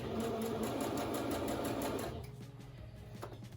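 A sewing machine back stitching a fabric face mask makes a steady, close, rapid whirring and stitching hum for about two seconds, then stops and leaves a faint, quiet pause.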